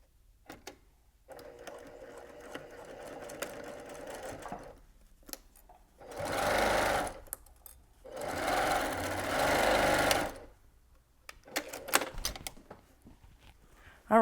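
A sewing machine stitches fabric for a carrot-shaped zipper pouch, running in two steady whirring bursts of a few seconds each. Quieter handling noises come before and after the bursts.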